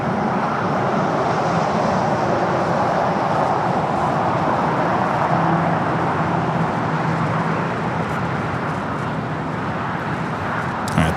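A Boeing 787 Dreamliner airliner touching down at LAX produces a loud, sustained broadband roar with a slight dip and lift in level, constant from start to finish.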